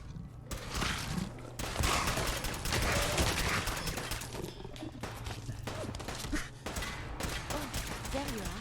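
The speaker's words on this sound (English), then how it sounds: "We are being shot at." Dense gunfire crackles and thumps through a firefight in the video game Fallout 4, continuous and busy, mixed with game noise and a voice speaking over it.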